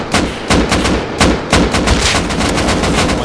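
Gunfire in the online survival game Rust: a loud, dense burst of rapid shots, one after another with almost no gaps, close and booming.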